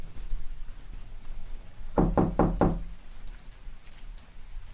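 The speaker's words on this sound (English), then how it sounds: "she heard a loud knock on her front door." Four loud, evenly spaced knocks on a front door, sharp and close, stand out over a low background hiss with no voices.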